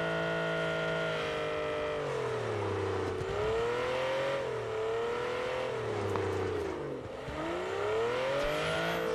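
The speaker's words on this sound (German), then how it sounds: "Der andere kommt mit dem Auto hinterher." A car in the PUBG battle royale game drives steadily, its engine droning loudly throughout with pitch rising and falling as it speeds up and eases off, and no talk over it.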